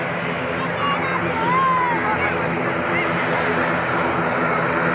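Wings Air propeller airplane at Malikussaleh airport in North Aceh, a loud, sustained engine drone with a rising and falling whine, heard close with faint background chatter.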